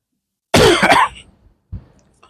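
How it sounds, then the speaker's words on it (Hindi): A harsh, close cough from a man who is slightly unwell bursts out loudly on a crowded street in Qatar, followed after a short pause by a second, weaker cough. "बहुत ही खांसी आ गई भाई"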